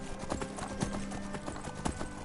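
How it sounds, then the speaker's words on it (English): Horse hooves clip-clop steadily in the video game Magicka, a quick rhythmic trot of hollow knocks over a low ambient game backdrop. "We're just going to use the horse to"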